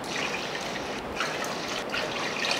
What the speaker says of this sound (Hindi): अब साथ साथ पानी शामिल करेंगे